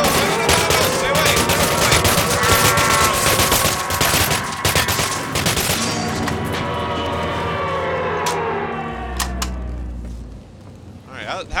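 Enemies firing Tommy guns in the video game Cryostasis: sustained, loud rapid-fire automatic gunfire with clattering overlapping bursts that thin out near the end, ending with a low thump.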